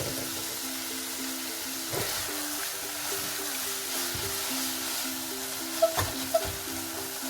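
Masala for chicken qeema samosas frying in a pan gives off a steady, soft sizzling hiss, with gentle stirring and a faint melody running underneath.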